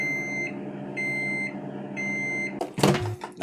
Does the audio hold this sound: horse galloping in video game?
no